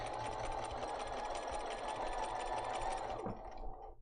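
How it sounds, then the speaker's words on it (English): A sewing machine stitching fabric runs steadily at a fast, even whir for several seconds, close and loud, then slows and stops near the end. "put the pressure foot down, and then I'm going to sew"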